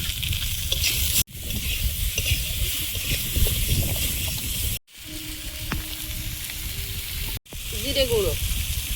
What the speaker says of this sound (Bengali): চিচিঙ্গাগুলো দিয়ে একটু ভেজে নেব।